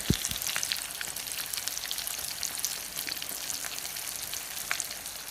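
Food frying steadily in a pan after being flipped golden brown, a dense continuous crackling sizzle with fine spitting pops, close and fairly loud with no talk.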